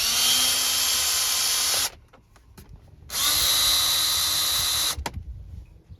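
Power drill removing screws beneath a Honda Pilot dashboard during a remote start installation, two loud close whirring runs of about two seconds each, separated by a pause with faint clicks and handling.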